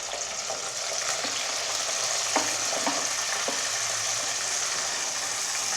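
Cut okra frying in hot coconut oil crackles with a loud, dense, continuous sizzle, and a few soft stirring knocks rise through it.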